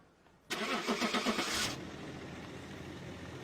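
A car engine cranks with a rhythmic churning for about a second, then catches and settles into a steady idle, fairly close with no talking.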